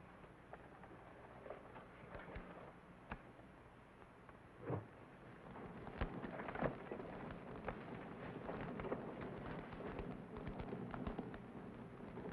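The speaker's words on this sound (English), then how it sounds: "the cabin's on fire" A burning wooden cabin in an old frontier western, heard as a continuous low roar of flames with scattered crackles and pops, faint and distant at first and growing fuller and louder later.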